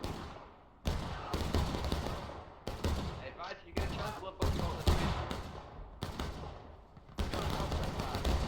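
Musket volleys in War of Rights, a 1776 battle: a series of loud, ragged crackling volleys arrives one after another at irregular intervals, with a voice speaking between and over them.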